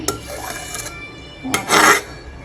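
Chicken meat with Kashmiri chili powder and spices being stirred in a pot, with scraping and rubbing of a utensil against the pot in a short stroke, a pause, then a longer louder scrape close by.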